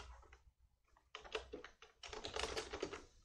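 Rapid keystrokes clatter on a computer keyboard, starting as a few soft scattered taps and then becoming two quick, busy bursts of close typing, fairly quiet overall.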